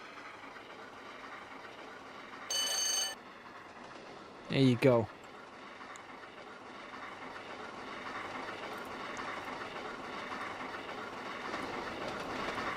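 A locomotive in the Trainz game pushes hard at about 50 mph on the Settle and Carlisle line, giving a continuous low rumbling rail drone. Two brief louder bursts stand out early, and a short spoken remark comes near the start.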